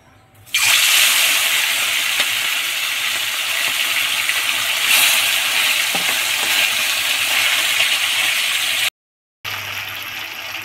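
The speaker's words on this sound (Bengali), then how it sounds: "তেলটাও এখন আমার গরম হয়ে গেছে, ওতে আমি দিয়ে দেব মাছ।" Mandeli fish hitting hot white oil in a pan sets off a loud, steady sizzle that holds for several seconds, then cuts out briefly before resuming.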